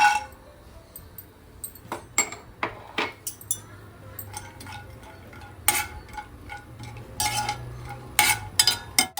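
Cashews roasting in oil in a pan for kesari are stirred with a metal spoon, giving a run of sharp clinks and scrapes against the pan in irregular bursts over a quiet background.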